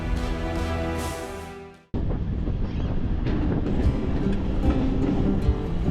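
A suburban train runs from Thane to Panvel in the early morning with a loud, continuous rumble. A sharp cut breaks the sound partway through, then rattling, wind-buffeted travel noise takes over.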